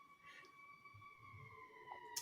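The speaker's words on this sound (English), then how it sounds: "Ooh, creepy siren." A faint, distant emergency siren wails outdoors during a storm, a thin steady tone that stays far off and quiet behind low background rumble.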